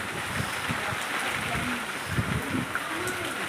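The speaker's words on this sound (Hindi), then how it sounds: "बहुत तेज तेज पानी बरस रहा है" Heavy rain pours outdoors in a dense, steady hiss with scattered low thumps and faint rustling throughout, fairly loud and close, with no clear speech.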